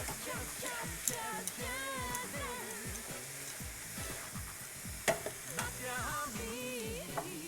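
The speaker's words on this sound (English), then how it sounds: "Give it a stir." Steady stirring and soft sizzling of coconut pancake filling in a pan, with repeated scraping strokes of a spoon under a continuous quiet fry.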